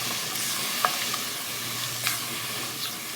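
Broth being stirred into a roasted cauliflower soup pot on medium heat, a steady hiss with a few soft spoon clicks and scrapes, close and moderately quiet.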